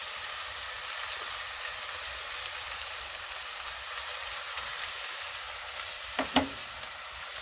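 Turmeric, ginger, garlic, chili and carrots fry in a pot with a steady, even sizzle throughout, broken near the end by a couple of brief clattering stirs of the pot.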